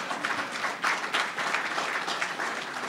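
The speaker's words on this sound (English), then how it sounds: "And I think from that applause, for which I thank you" A conference audience applauds at length, dense steady clapping filling the hall without pause, moderately loud and spread out.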